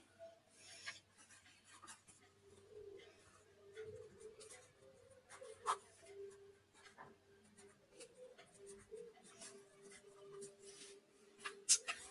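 A pen scratches steadily on paper while the mode formula is written out for an MBA statistics problem, giving faint, close, intermittent strokes in a quiet room.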